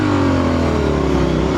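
Two Triumph Scrambler motorcycles, a 900 and a 1200, pull hard off the line in a road drag race, engines revving loud and close with a steady rising drone across the short burst.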